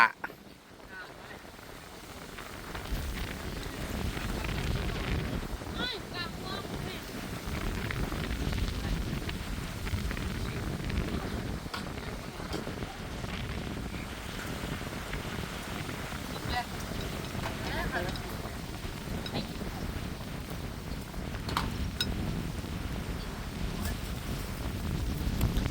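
Cold winter wind gusts steadily outdoors beneath a rose apple tree, a continuous rumbling blow buffeting the microphone for the whole stretch, with faint scattered knocks and movement mixed in.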